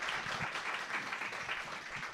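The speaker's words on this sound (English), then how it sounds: "Big applause" Applause from a book club audience thanking a visiting author, a steady dense wash of clapping that fills the whole stretch at even loudness with no voices standing out.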